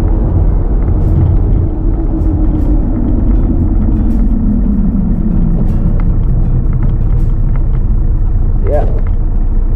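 Kia Carnival diesel rolling slowly and turning right onto a badly damaged road, a loud low engine and road rumble filling the cabin with someone talking over it throughout.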